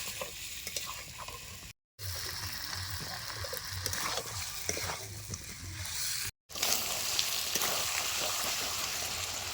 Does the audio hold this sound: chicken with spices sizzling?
yes